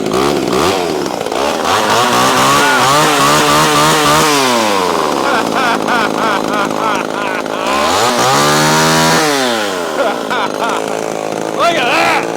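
A Homelite XL chainsaw runs loud and close after starting, its engine revving up and dropping back twice in long sweeps before settling into a buzzing idle, with someone talking over it.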